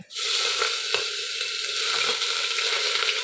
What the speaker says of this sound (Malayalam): ഇഞ്ചി വെളുത്തുള്ളി പച്ചമുളകൊക്കെ ചതച്ചതും കൂടെ ചേർത്ത് കൊടുക്കുക കേട്ടോ എന്നിട്ടൊരു രണ്ട് മിനിറ്റ് ഒന്ന് വഴറ്റിയതിന് ശേഷം